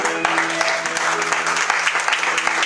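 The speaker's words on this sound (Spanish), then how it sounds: "Dale palmas al Rey, aleluya" A congregation in a church claps their hands in a dense, continuous round of applause over a faint sustained tone, with crisp individual claps standing out near the front.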